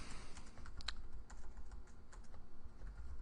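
Quick typing on a computer keyboard, a dense patter of light close key clicks in uneven bursts, alone with no talk.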